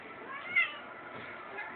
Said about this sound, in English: We got all kinds of kittens hanging around.